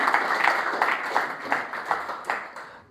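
Church congregation applauding, a burst of clapping that rises and falls in uneven waves over a few seconds.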